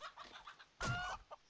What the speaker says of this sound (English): Ooh, chicken.